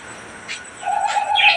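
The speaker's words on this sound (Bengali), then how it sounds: "এখানে অনেক বিদেশি পাখি আছে, টিয়া সহকারে আরও অনেক বিদেশি লাভ বার্ড।" Parrots and lovebirds call in a park aviary in Natore, with a few brief, bright chirps and tweets close by over quiet background.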